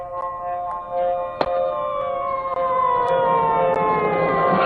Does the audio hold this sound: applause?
no